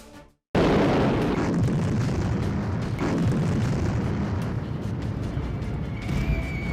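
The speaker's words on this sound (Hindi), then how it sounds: "मिसाइलों की गड़गड़ाहट से धरती का सीना फट रहा है" After a brief lull, a heavy, roaring blast erupts and rumbles on continuously, loud and sustained, from missile strikes in the Iran–Israel war, with a faint tonal whine near the end.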